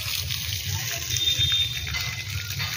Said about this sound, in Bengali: তাই আমরা এখন এটাই হালকা হালকা করে জল দিচ্ছি।